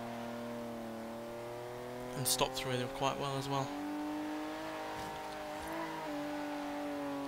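A 1973 Porsche 911 Carrera RS's 2.7-litre rear-mounted flat-six drones steadily in Forza Horizon 3, rising and falling with gear changes and a brief tyre squeal, while someone talks over it.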